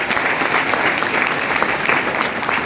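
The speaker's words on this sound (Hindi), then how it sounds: "इसके लिए तो अपने आप के लिए एक जोरदार ताली होना चाहिए।" A packed seminar audience at a garden venue in Ranchi claps loudly and continuously, a dense sustained burst of applause from many hands close by, with faint voices under it.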